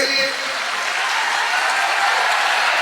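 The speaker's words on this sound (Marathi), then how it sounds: "एकदा टाळ्या होत्या गुंजन पाटील साठी" A crowd of students bursts into loud, sustained applause, a thick, even wash of clapping hands that fills the whole moment without letting up.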